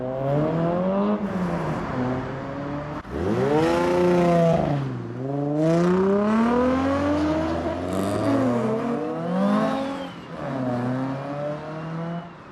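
Modified Ford Mk2 Fiesta pulling away with its engine revving up through rising harmonics, loud and close, with a second burst of acceleration and passing engine noise following across the stretch.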